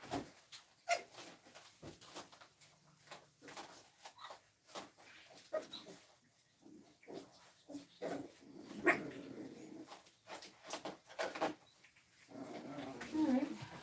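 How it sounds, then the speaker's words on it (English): Six-week-old French Bulldog puppies indoors, making faint whimpers and small yips amid soft rustling and shuffling, quiet and close. "Alright, puppies are up and active."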